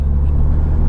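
Steady low idle rumble from a Mini JCW Clubman, a 306-horsepower car in sport mode with its exhaust note altered, heard close and continuous with no talk.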